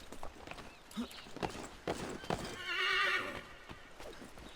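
A horse whinnies loudly in the video game Assassin's Creed 3, its neigh rising and falling, mixed with hoof clip-clops and other game effects.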